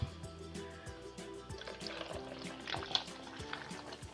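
Water pours and trickles steadily into yogurt for kadhi pakora, close and fairly soft, with a bubbling liquid sound running throughout and faint music underneath.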